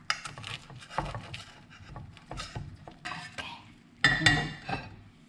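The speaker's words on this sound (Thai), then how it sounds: "มันก็จะใช้ช้อนแซะออกแบบนี้นะคะ" A metal spoon scrapes and prises khanom khrok, small Thai coconut pancakes, out of their dimpled pan in uneven scratches and clinks, with low clattering and faint background voices.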